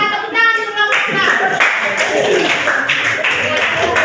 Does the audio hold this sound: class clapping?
yes